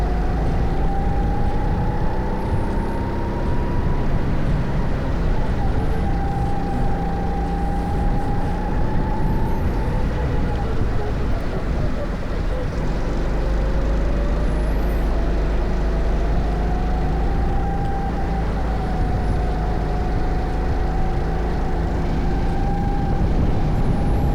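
A rental go-kart engine drones loudly and continuously on a racing track at Music City Kartplex, its pitch rising and falling with throttle through the turns, close and unbroken.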